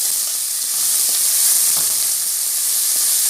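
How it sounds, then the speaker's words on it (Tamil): Steady, close sizzling of finely chopped onions frying in hot oil for soya chunk gravy, a continuous crackling hiss with faint stirring sounds. "இப்போ வந்து வெங்காயம் நல்லா வதங்க விட்டுடலாம்."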